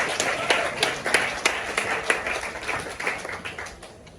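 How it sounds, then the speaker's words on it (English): Scattered clapping from a small audience at a book event, individual claps distinct and fairly close, tapering off over a few seconds. "Round of applause."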